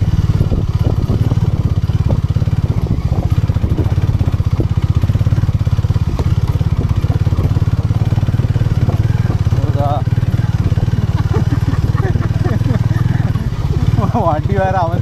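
A motorcycle engine labours continuously uphill on a summer road trip from Bangalore to Valparai, with a loud, steady low drone close by throughout and people talking over it.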